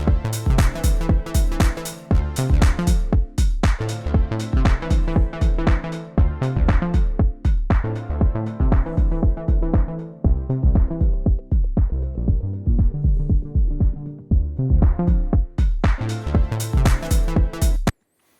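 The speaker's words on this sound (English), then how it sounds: "what you heard is that we were removing the top end of the frequency spectrum" Rhythmic percussive music loop played through a low pass filter as the cutoff sweeps and strips away the high end, with the sound dulling midway before brightening again near the close.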